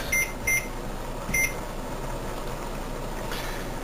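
Three short high electronic beeps from a kitchen timer being set while cooking wild clover with garlic mustard, evenly spaced in the first second and a half, with a faint fourth chirp later over a low room hum.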